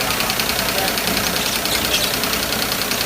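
A small power sprayer motor runs steadily with a rough, buzzing drone, close and continuous, with a voice talking over it.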